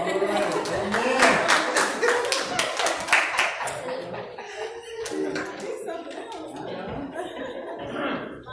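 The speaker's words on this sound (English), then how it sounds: "Give them a round of applause." Steady applause from a crowd of hands clapping at a school year celebration, with scattered laughter and voices mixed in throughout.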